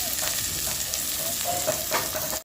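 Onions sizzle and fry in a pan with curry leaves and coriander while a spoon stirs them, giving a steady, close crackle with soft scraping strokes throughout.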